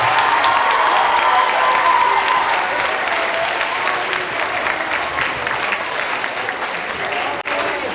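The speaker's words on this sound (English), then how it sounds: "let's give a round of applause to all our students who stepped out of the box and came up here" Audience applause at a school talent show, steady, dense clapping from a crowd that fills the room, with faint cheering mixed in and no break for the whole stretch.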